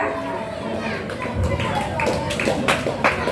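Applause for a child contestant at a children's Quran recital festival, scattered clapping from a modest crowd rising over a host's voice and children's chatter, lively and close.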